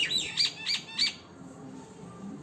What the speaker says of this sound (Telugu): ఇక్కడ చూసారా ఈ పిచ్చుకలు ఎర్లీ మార్నింగే ఇలా మాడపైకి అయితే వచ్చాయి.